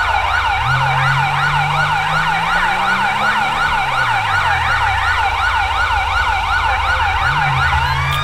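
Police car siren in GTA V with the LSPDFR mod, a loud, steady electronic wail that sweeps rapidly up and down in a repeating yelp pattern over a low engine rumble, heard alone throughout.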